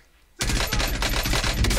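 Loud, dense automatic gunfire from the Call of Duty Warzone video game bursts in after a brief quiet moment and keeps rattling nonstop to the end.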